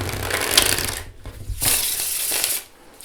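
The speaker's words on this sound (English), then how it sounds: "I'm just going to shuffle one of them because they shuffle pretty much the same." A tarot card deck being shuffled by hand, in two or three riffling bursts separated by short pauses, close and fairly loud.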